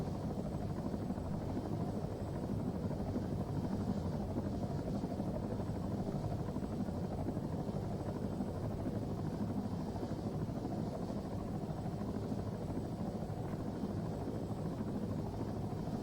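A helicopter in the video game ArmA 3, its steady rotor drone humming on without pause, low and even, with no voices over it.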